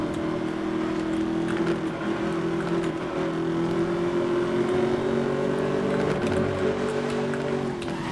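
A car in the racing game Need for Speed: Most Wanted (2012) drives at speed, its engine drone steady and loud throughout with a slight pitch dip and recovery near the end, no talk.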